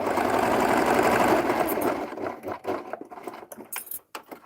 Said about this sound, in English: I'm just going to stitch what I need to.